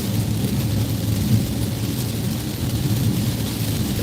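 Steady rain heard from inside a car driving a mountain road above the Reno valley near Lake Tahoe, a constant dense wash with low road rumble underneath, even and close throughout with no talk.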